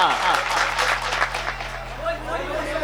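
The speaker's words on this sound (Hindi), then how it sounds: "अच्छा एक दफा तालियां बजाइए, तालियां बजा करके बुलाए कीजिए जी।" A mushaira audience claps on request, a steady patter of applause from a crowd, fairly loud and close, with some voices and chatter mixed in.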